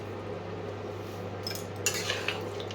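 Sesame chicken stirred in a pan over a steady low hum, with a few light metallic clinks of a utensil against the pan in the second half.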